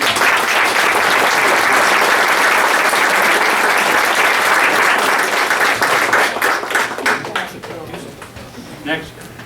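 A school board meeting audience in Sayville bursts into sustained, dense clapping. The clapping stays loud for several seconds, then thins out and fades, with some talking underneath.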